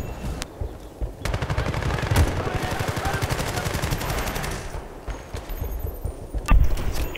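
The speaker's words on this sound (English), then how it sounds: "Definitely sounds like they have a tank." Rapid automatic gunfire and heavy combat noise from a tank battle in the video game Battlefield: Bad Company 2, dense and continuous with sharp bursts throughout.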